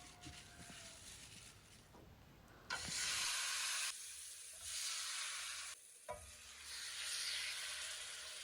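Tandoori chicken frying in a pot and turned over, giving loud hissing sizzle in bursts that swell, drop off and return, with stirring noises between them.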